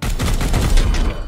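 Rapid burst of support gunfire in the turn-based tactics game Warhammer 40,000: Chaos Gate Daemonhunters, a loud, dense volley of cracking shots lasting just over a second, with no talk.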